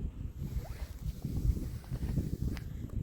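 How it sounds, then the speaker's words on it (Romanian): Wind gusting across a lakeside during a feeder-fishing outing after a thaw, buffeting the microphone as a steady low rumble with uneven surges, close and moderately loud, with no voices. "a început să bate și vântul, probabil că se și aude"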